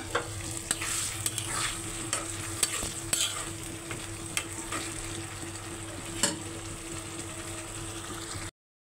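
Egg curry (egg bhuna) being stirred and fried in a pan: a continuous low sizzle with repeated scraping and clinking of the spoon against the pan, close up and without talk, cutting off abruptly at the end.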